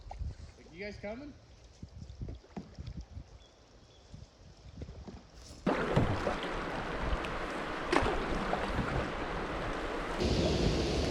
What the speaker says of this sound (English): Just running a few little rapids and swifts